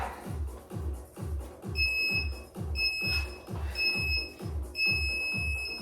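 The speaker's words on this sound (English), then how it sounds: "Coming up in 10 seconds, you'll hear the beep." Short high electronic beeps from a workout interval timer repeat in a regular pattern over a thumping low beat, sounding close and clear.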